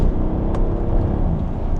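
A Mercedes SL63 AMG engine pulls hard under acceleration, a dense, loud, continuous roar that holds steady throughout, with no voices.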